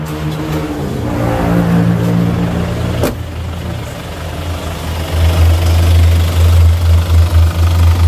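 A car engine idles steadily after its radiator has been refilled with coolant, a low rumbling hum that swells louder toward the end, with one sharp click partway through and no talking.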